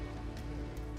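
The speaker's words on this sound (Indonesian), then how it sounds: "Aduh, hujan lagi." Steady rain pours down in a continuous, dense hiss with a low rumble beneath it, unbroken and close, with no voices.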